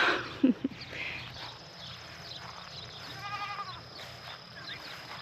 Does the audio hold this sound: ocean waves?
no